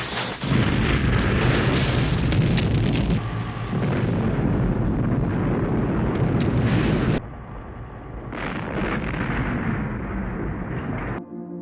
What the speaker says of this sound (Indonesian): bom pun meledak dan menghancurkan seluruh tempat itu